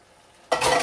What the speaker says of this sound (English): let's cook that in 3 to 4 minutes and stir often until thickened